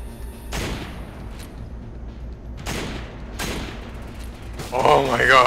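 Gunfire from the Resident Evil 5 video game: three separate sharp shot bursts ring out at a steady pace, each with a short decaying tail, and a louder burst of mixed game noise comes at the end.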